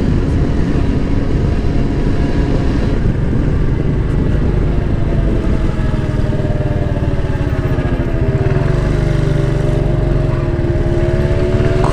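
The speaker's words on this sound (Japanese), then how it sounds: "そして後ろからうるさいバイクが追いかけてくる" A loud motorcycle engine drones right behind in stalled city traffic in Osaka, a steady rough growl whose pitch rises and falls as the rider revs, heard up close without speech.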